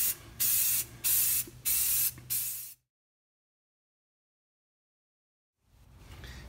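Silver spray paint goes onto an MDF wall hanging inside a spray booth in four short, loud hissing bursts with brief pauses, then a long silence before faint hiss returns.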